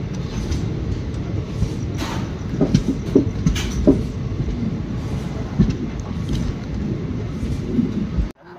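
A Coimbatore–Pollachi express train runs on the rails toward Pollachi Junction, giving a steady, loud rumble with scattered wheel clacks and knocks throughout, then cutting off abruptly at the end.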